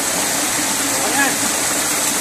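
A cold mountain stream rushes past in a forest, a loud, steady broadband wash of flowing water that stays constant and close throughout.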